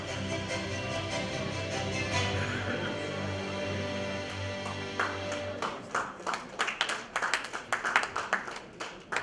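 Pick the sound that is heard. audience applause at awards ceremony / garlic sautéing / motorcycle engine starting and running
audience applause at awards ceremony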